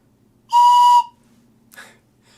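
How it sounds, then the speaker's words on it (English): A single sharp whistle blast of about half a second, loud and close, followed by a fainter brief rustle, in a quiet classroom. "Yes, it's a whistle."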